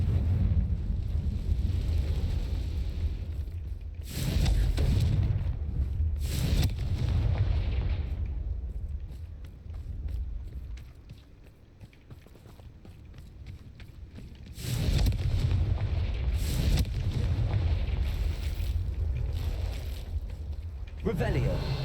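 Confringo fire-spell blasts in Hogwarts Legacy, with two pairs of loud, roaring bursts several seconds apart, each flaring up sharply and fading into a lower rumbling hum between them.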